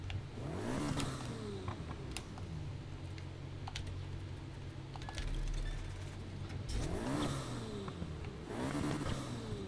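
Small engine of a Mini Venom GT, a heavy car in Need for Speed Heat, revving and rising through gears twice with a clicking, rattly texture over a steady low drone.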